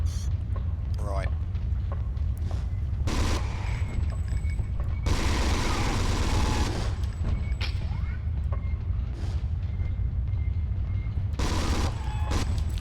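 Gunfire in the PS1 game Alien Resurrection, a few sharp bursts of shots with booming impacts scattered across the stretch, set against a low steady game rumble and background ambience.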